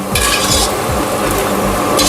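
Chicken curry fries in a pot while a utensil stirs it, giving a loud, close, steady sizzle with rhythmic scraping strokes against the pot.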